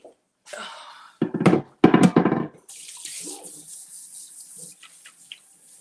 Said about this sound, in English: I'm gonna give this a little rinse.